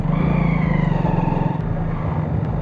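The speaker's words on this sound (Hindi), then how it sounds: "अब हम सब जो है बाइक पर सवार भऽ कऽ जो है जा रहल छी" Motorcycle riding along a village road between fields, its engine close and loud with a steady throbbing idle-like pulse that eases slightly midway, heard alone without talk.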